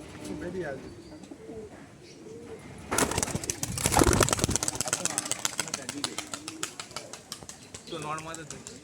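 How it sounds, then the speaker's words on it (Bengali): Pigeons let out of a cage burst into flight with a loud rapid flurry of flapping wings, preceded and followed by talk and soft cooing nearby. "পায়রাগুলো আমি ছেড়েও দেখিয়ে দিচ্ছি আপনাদেরকে"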